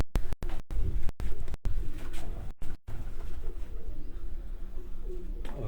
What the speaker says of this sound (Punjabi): ਇਹ ਉਹਨਾਂ ਦੇ ਜੇਠ ਦੇ ਕਬੂਤਰ ਉੱਡੇ ਹਨ ਜੀ